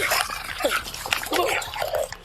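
A dog whimpers and whines in short, uneven cries during a tense police encounter, close and fairly loud over scuffling noise with no clear speech.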